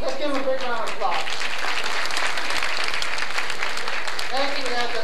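A room of attendees at a 1986 pre-social event applauds a group of young ladies, a dense wash of clapping running throughout with a voice talking over the start and end.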